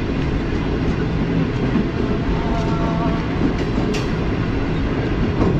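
Green Line Express, a Lahore to Karachi passenger train, heard from on board as it runs past Tando Adam station, a loud, continuous rumble with a rhythmic clatter of wheels and brief high squeals.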